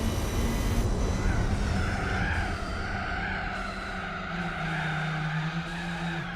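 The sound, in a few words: car skidding and spinning out in the video game Gran Turismo 4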